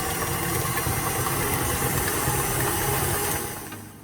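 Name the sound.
beating cookie batter in mixing bowl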